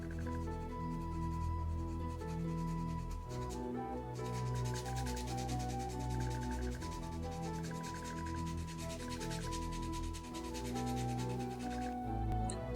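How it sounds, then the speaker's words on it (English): Carved soft plastic fishing lure being sanded smooth with 100 and 240 grit sandpaper, a continuous close scratchy rubbing that goes on alone and evenly throughout. "I needed to sand everything smooth as a baby's butt. For this I used sanding paper in the grit 100 and"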